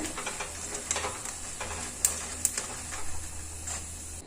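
Rice vada frying in hot oil gives a faint, steady sizzle and bubbling close by, with a few sharp pops and clinks scattered through it.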